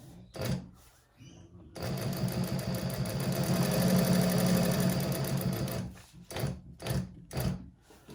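A sewing machine stitching the lining of a handbag, starting after brief handling knocks and running in one long steady whirring burst of several seconds, then stopping as short stop-start bursts and taps follow, close up, with no speech.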